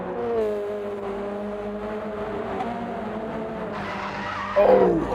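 Racing video game car in a race on the Dragon Trail Seaside circuit, a steady engine drone with tyre skidding that ends in a sudden loud impact burst near the finish.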